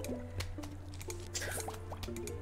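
Bubbling effect from the Plants vs. Zombies game: a string of short, wet, rising drip-like pops, irregularly spaced, over a steady low hum, with no talking.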